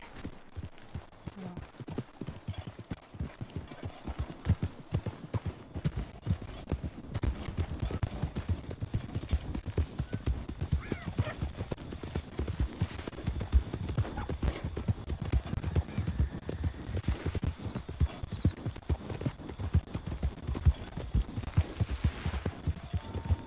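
A horse walks with a steady stream of close clip-clop hoofbeats that keeps going for over twenty seconds, with a brief neigh partway through.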